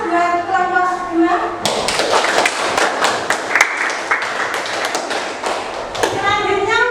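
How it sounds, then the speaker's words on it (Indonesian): Classroom applause for a student group, a burst of clapping from many children lasting several seconds, with a teacher's voice speaking before and after. "Kita kasih aplaus buat kelompok 2."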